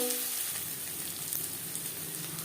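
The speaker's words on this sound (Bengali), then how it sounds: "2-3 মিনিট আদা ও কাঁচা লঙ্কা বাটা নাড়াচাড়া করে নেওয়ার পর" Ginger and green chili paste frying in a pan, a steady soft sizzle and crackle with light stirring throughout, close and fairly quiet.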